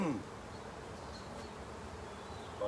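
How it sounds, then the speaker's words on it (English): Honeybees buzz steadily through a hive inspection, a continuous soft drone that holds at an even level from start to finish with no talking over it. "You want to disturb the bees as little as possible during the season."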